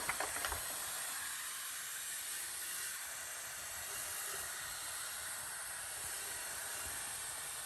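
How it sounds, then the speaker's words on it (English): Pump sprayer misting a car during a winter wash, a faint continuous spray hiss that holds steady throughout after a few soft knocks at the start. "I got my pump sprayer ready to go"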